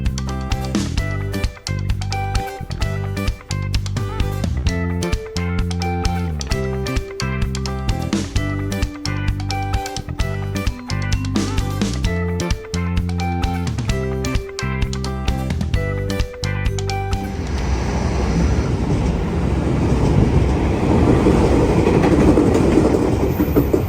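The Argo Bromo Anggrek passenger train runs on rails in Indonesia with a loud, steady clickety-clack of wheels over rail joints, a regular beat for most of the stretch, then giving way to a smoother, broader rushing rumble.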